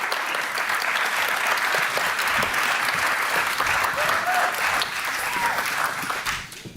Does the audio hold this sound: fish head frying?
no